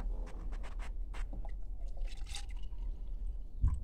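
Water trickles and drips into a container in short, faint bursts against a quiet room hum, ending with a soft knock near the end.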